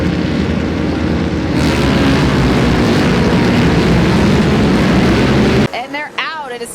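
A pack of Super Hooligan race motorcycles roars off the start at Michelin Raceway Road Atlanta, a loud sustained engine blare that drops away near the end as a voice cuts in.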